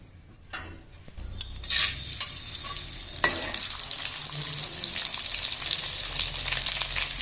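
Edible gum frying in hot ghee, crackling and sizzling steadily as the pieces puff up, with a few sharp clinks early on and then a dense continuous hiss close by.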